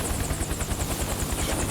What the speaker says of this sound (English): Otacon, that's a really rude place to park your helicopter